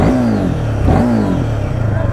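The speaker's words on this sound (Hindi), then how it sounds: "तो ये स्टार्ट हो गई भाई अपनी गाड़ी।" A Royal Enfield Himalayan 450 motorcycle engine turns over and catches, then revs up and down in a steady, close, rumbling idle.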